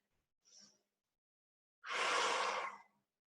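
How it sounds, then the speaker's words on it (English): Two exaggerated breaths during a pilates exercise: a short faint inhale, then a long, loud, forceful exhale lasting about a second, close to the listener, with no talking. "You should hear my breathing."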